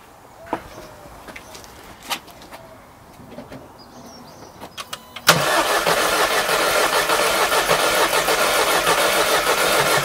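Audi S3 8P with TFSI engine starting after a thermostat replacement and carbon clean: a few quiet clicks and knocks, then the starter catches and the engine fires abruptly into a loud, steady idle that continues to the end.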